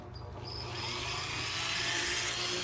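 A power drill on low power bores into a nitro FPV hydroplane hull during repair, a steady close whining buzz lasting a few seconds.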